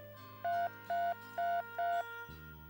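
A quick series of four evenly spaced telephone keypad tones over a low steady hum, followed by a change to a lower continuous line tone.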